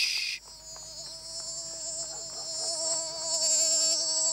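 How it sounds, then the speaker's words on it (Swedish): A cartoon mosquito buzzes with a thin, wavering high-pitched whine that drifts and rises in loudness, close and continuous after a brief opening sound. "Jag avskyr myggor."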